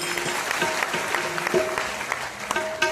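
An audience at a spiritual gathering in Surat claps in a dense, continuous patter of applause with a few louder individual claps, over a faint tonal background.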